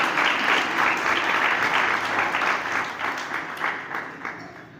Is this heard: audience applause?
yes